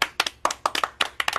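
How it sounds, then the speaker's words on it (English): Two podcast hosts clap their hands close to the microphone in a quick uneven burst of about a dozen sharp, bright claps, some landing nearly together. "Let's just clap."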